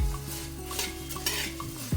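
A spatula scrapes and stirs puffed rice in a hot kadhai, with a faint crackle of roasting and periodic metallic scrapes close by, with no voices.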